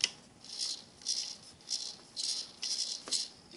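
A small radio-controlled servo in a model boat setup, with nothing attached, whirs in several short repeated bursts, faint and close, with quiet pauses between movements.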